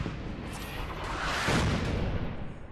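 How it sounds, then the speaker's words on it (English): An artillery grenade goes off in Fallout 4, a broad, rumbling blast that swells to a loud peak around midway and then lingers and fades, with no talking over it. "I did the artillery grenade."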